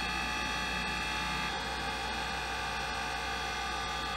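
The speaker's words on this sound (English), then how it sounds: "Let's get the grinder running." A homemade slow-speed grinder running steadily, producing a constant mechanical hum and whine with a faint ratcheting texture, close and uninterrupted with no talk.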